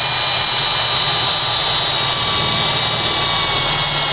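A power drill with a hole saw cuts a hole, guided by a pilot hole, giving a loud, steady whining roar that holds constant throughout at close range with no voices.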